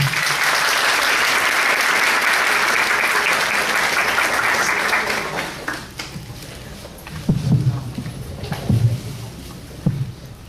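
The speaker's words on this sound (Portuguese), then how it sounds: "Os aplausos de vocês" Audience applause at a spiritist lecture, steady clapping for about five seconds that thins into scattered claps, followed by a few low knocks and rustles in the hall.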